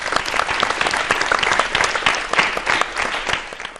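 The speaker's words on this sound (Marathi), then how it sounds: "तुमच्यासाठी एकदा टाळ्या झाल्या पाहिजे." An audience claps at a talk event, with dense, steady applause from many hands lasting the whole stretch at an even, loud level.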